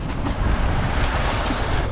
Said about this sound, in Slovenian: Voda začne kar od nekje teči, polno enih izvirov, recimo tale.